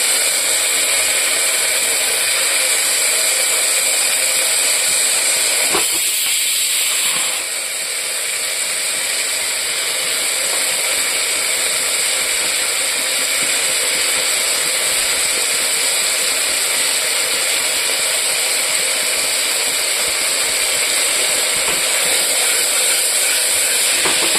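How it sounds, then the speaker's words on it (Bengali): Chopped tomatoes fry in a pan with a loud, continuous hiss and sizzle that holds steady throughout, with a brief stir or clatter partway through. "টমেটোটা একটু ভাজা ভাজা হয়ে গেছে, আমি এখানে ফরাসের বিচিটা দিয়ে দেবো।"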